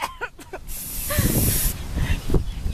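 Aerosol spray paint can spraying onto a mason jar outdoors over cardboard: a loud, steady hiss of about a second, then shorter bursts nearby, with a brief voice at the start.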